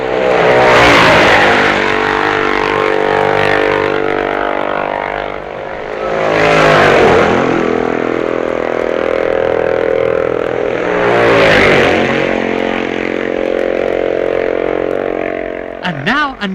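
Racing motorcycles, Nortons and Matchless machines, roar past one after another on the road course at the 1965 Isle of Man TT, each swelling loud then fading, with a faint crowd murmur between passes.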